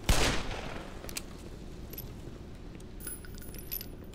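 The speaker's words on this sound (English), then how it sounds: "I was wondering what the sound was, it's me stepping on stuff." Crunching and clinking of debris underfoot in the Black Mesa game, a sharp rattle at the start followed by scattered small metallic clicks and jingles over a low ambient hum.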